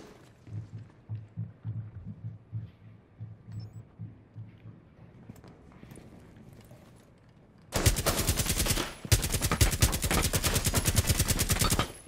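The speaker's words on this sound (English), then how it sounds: "Heartbeat sensor activated." Heartbeat sensor in Rainbow Six Siege: soft, rhythmic low throbbing pulses repeat for several seconds, then give way to loud, rapid machine-gun fire that stutters in two long bursts.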